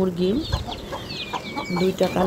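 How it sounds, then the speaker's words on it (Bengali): Hen clucking beside newly hatched chicks from two black hens, with repeated short clucks close by and high chick peeps in the background on a village morning. "দুইটার মুরগির বাচ্চাই একবারেই ফুটাইছে এখানে"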